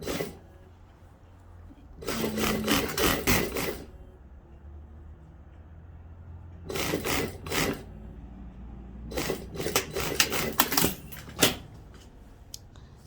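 A sewing machine stitches the waistband of a lined skirt in three separate bursts of fast, close mechanical clatter, with quiet gaps between the runs.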